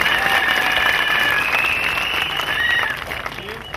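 Crusade crowd in Bafoussam clapping for Jesus Christ, a dense steady wash of applause lasting throughout and easing slightly at the end, with a few high tonal cries or voices threading through it.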